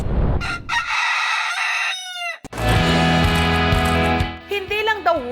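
A rooster crows loudly and close at a chicken hotel, two long drawn-out calls separated by a brief break, with clucking and voices around them.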